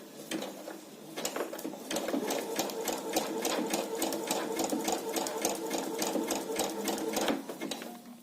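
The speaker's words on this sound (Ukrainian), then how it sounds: "Тут уже розтягувати можна трошки більше, щоб було, щоб тканина була рівна під строчкою." A sewing machine stitching a seam on stretched fabric while testing elastic tension, a close, rapid mechanical rattle that starts after a brief pause and runs steadily for several seconds before stopping.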